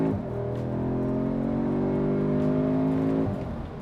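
An Audi S3 accelerates hard, its engine droning loudly and climbing in pitch as it pulls after a downshift, then easing off near the end.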